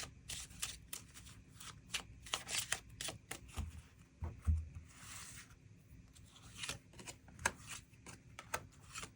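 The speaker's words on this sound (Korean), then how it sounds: "추가 카드 뽑아보도록 하겠습니다" Quiet, close tarot cards are shuffled and drawn, with soft papery riffles and flicks, a brief swishing burst midway and scattered light card snaps throughout.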